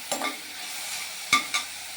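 A 1 kg batch of chicken for a cashew chicken curry being fried in a pan, with a few sharp spatula scrapes and clinks over a soft, low sizzle.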